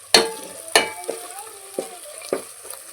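Coriander and curry leaves hit hot oil in a curry and sizzle, with sharp bursts of crackling and several stirring scrapes spaced through the clip, close and fairly loud with no talk.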